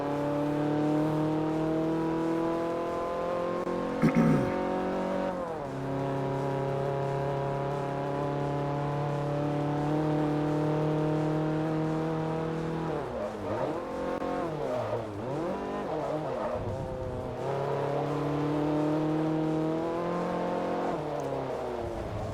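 Race car engines drone and shift pitch in Forza Motorsport 3, with a loud steady roar, brief tire squeals and changing revs through corners, continuous throughout.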